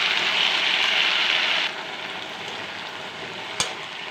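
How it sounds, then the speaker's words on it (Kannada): Mint and coriander leaves fry in a little oil for green chutney, a close, even sizzle that eases slightly partway through, followed by a single sharp clack of a utensil, with no voices. "ಪುದೀನ ಸ್ವಲ್ಪ ಕೊತ್ತಂಬರಿ ಹಾಕಿದ್ದೀನಿ, ಕೊತ್ತಂಬರಿ ಸೊಪ್ಪು ಅದೆಲ್ಲ ಸ್ವಲ್ಪ ಎಣ್ಣೆಯಲ್ಲೇ ಫ್ರೈ ಮಾಡೋಣ"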